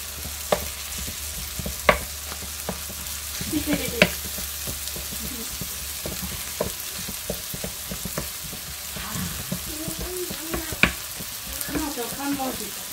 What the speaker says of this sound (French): Vous gagnez votre temps à le faire directement à la poêle. Parce que ça cuit en même temps.